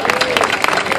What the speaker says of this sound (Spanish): Un aplauso para ustedes mismos, claro que sí.